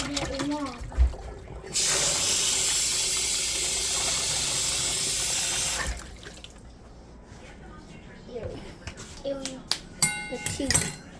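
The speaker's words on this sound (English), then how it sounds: "Now wash your hand." A hand washed under a running kitchen tap, a steady hiss of water for about four seconds, followed by drips, clatter and a voice nearby.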